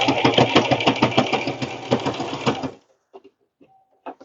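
A sewing machine runs a zigzag stitch through stretchy fabric, a close rapid mechanical chatter of regular beats that stops abruptly, followed by a few faint clicks and handling noises.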